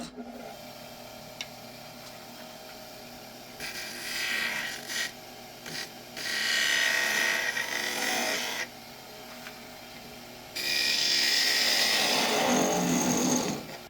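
A skew chisel cuts into a spinning wooden salt shaker blank on a woodturning lathe: low motor hum underneath, with rasping, hissy cutting bursts of a few seconds each, the last one longest and loudest.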